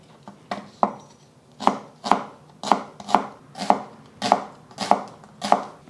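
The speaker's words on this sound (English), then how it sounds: "I'm starting with one large shallot. Just gonna cut them, just slice them up." A knife slices through one large shallot on a cutting board, about a dozen crisp, evenly spaced chops in a steady rhythm, close and clear with no talking.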